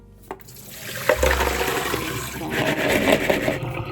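Chestnuts being washed in water at home, with splashing and rushing water, a low thump near the start, and gurgling that builds louder toward the end.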